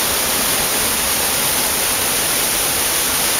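A waterfall in a remote, largely unexplored area of Gilbués, Piauí, Brazil, heard as a loud, dense, unbroken roar of rushing water with no other sounds.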